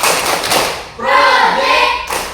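A classroom clap chant, with sharp rhythmic hand claps alongside young voices chanting together, close and loud.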